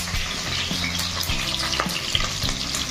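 Paneer frying with capsicum and onion in an Odia-style chilli paneer, a steady close sizzle with scraping stirs through the pan, no talking.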